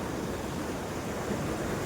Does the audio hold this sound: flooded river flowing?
yes